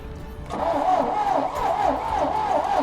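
An old GMC truck that has sat unrun for over thirty years cranks with a rhythmic, wavering starter churn, steady and close for a few seconds as the engine struggles to catch.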